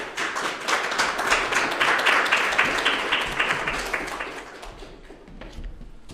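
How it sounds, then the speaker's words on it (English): An audience at a slam poetry event breaks into steady applause, a dense wash of many hands clapping that holds strong, then gradually thins and fades out. "Suddenly, the audience members begin to clap."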